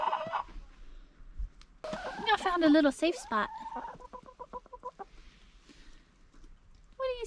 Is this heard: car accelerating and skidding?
no